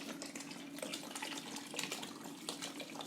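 Fizzy gassosa soda poured into sangria, a faint steady hiss of bubbling liquid with small crackling fizz, quiet and without talking.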